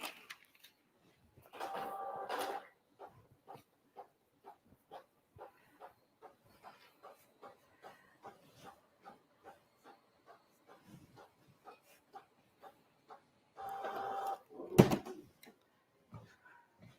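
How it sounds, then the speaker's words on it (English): A home printer prints a page, running in a steady series of soft, evenly spaced mechanical clicks and whirs, framed by louder feed noises at the start and end, in a quiet room. "Send to the printer."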